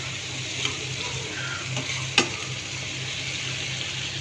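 Shrimp fry in a hot pan with a steady, close sizzle and a couple of small clicks, alone without talk.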